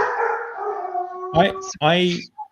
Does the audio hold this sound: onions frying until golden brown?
no